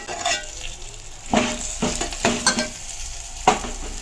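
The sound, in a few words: stirring turmeric rice in a frying pan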